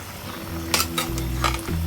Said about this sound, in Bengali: আজকে পেঁপে দিয়ে চিকেন, সজনা মাখায় বসায় দিচ্ছি, সব মাখায় মাখায় বসায় দিচ্ছি